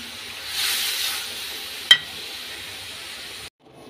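Five whole spices crackling in hot oil for a lightly tempered dal, a soft continuous sizzle that swells briefly, one sharp click partway through, then cuts off abruptly.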